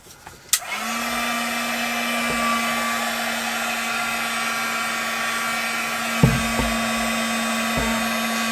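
A heat tool blows hot air onto plastic in a junk-journal craft session, a steady whooshing roar with a faint whine running nearly the whole time after a click switches it on, alone and close, with a few soft knocks.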